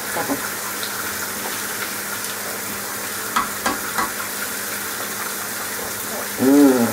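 Bacon frying in a pan for bacon butties gives a steady, fairly quiet sizzle that runs the whole way through, with a few small pops and clatters and a brief louder scrape near the end.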